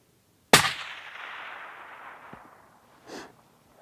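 A single loud rifle shot fired at a waterbuck during a hunt, a sharp crack followed by a long rolling echo that fades, then a faint dull thump a few seconds later.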